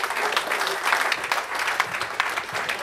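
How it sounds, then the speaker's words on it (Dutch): Applause fills a sports awards evening at a Dutch sports cafe, a dense, continuous clapping from a sizeable crowd at fairly close range, lasting about three seconds without speech. "Applaus."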